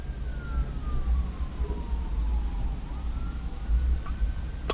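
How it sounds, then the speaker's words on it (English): A fire truck siren wails faintly outdoors, its pitch sweeping slowly down and up as it passes, heard distantly over a steady low rumble of traffic and room noise. "There's a fire truck, it sounds like."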